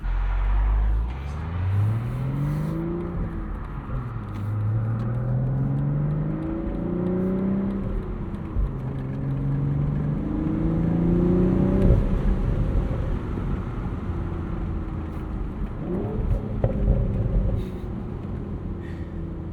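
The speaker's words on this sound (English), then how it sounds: "We'll just try and enjoy this beautiful inline six." Inline six engine of a 2025 BMW Z4 roadster with 6-speed manual, revving up repeatedly through the gears, each pull rising in pitch then dropping at the shift, close and loud with no talk.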